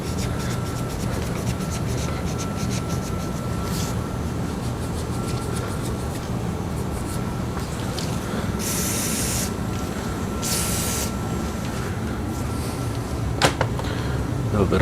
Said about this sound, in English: A little bit of one step, just to kind of lube things up a little bit.